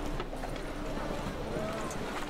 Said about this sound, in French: Ça sert à quoi de pouvoir au final invoquer son cheval ici